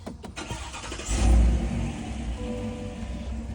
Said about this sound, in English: when you turn on the truck,